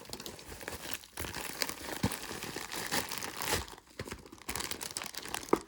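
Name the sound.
plastic bag crinkling while unboxing an eBay package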